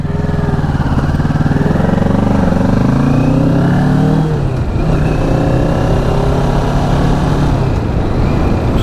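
Kawasaki Ninja 650 motorcycle engine under way, a loud, close, buzzing twin-cylinder drone that climbs in revs, drops briefly at a gear change, then pulls again, with no talking.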